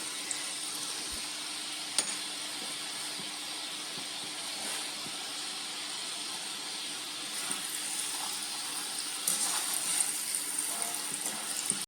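Peanuts frying in hot oil, a steady soft bubbling and hissing sizzle that holds evenly throughout, faint and continuous with a few small pops.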